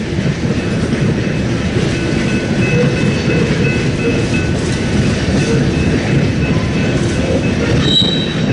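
Railroad cars rumble past on the rails with a loud, steady roar, wheels squealing sharply near the end, close by and with no other sound.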